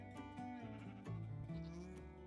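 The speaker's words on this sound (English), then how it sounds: "we've got the screaming goats from the Oops Lodge" Goats bleat in a Minecraft game world, several animal cries overlapping in a steady, close stream with layered wavering tones and no speech.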